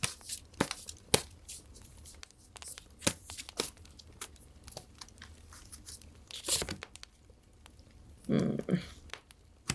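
Oracle tarot cards are drawn and handled during a reading, with quiet scattered snaps and flicks of card stock and a brief rustling shuffle near the end, close and soft.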